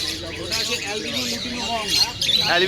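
A lutino parakeet chirps among other caged birds at a busy pet bird market in Serampore, West Bengal, giving thin repeated tweets under people talking nearby.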